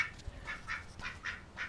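Ducks quack in a steady series of five short nasal calls, evenly spaced and fairly close, with no talk over them.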